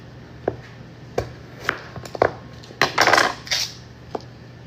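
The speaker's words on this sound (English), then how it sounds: "Let me cut this to 6 tablespoons" A knife slicing a block of cold butter into tablespoon portions: crisp, separate taps of the blade against the board at an uneven pace, a brief cluster of quicker cuts in the middle, no voices.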